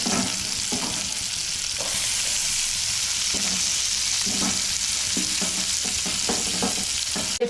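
Chopped onions with curry leaves fry in a pan for a phool makhana curry, a steady loud sizzle with the scrape and clatter of a spoon stirring at intervals.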